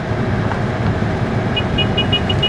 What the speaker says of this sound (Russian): Вот это пробка!